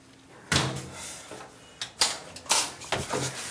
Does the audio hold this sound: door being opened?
yes